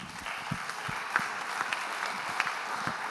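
An audience claps steadily to welcome a speaker at a university lecture, a dense, even patter of many hands in a hall with no voices on top.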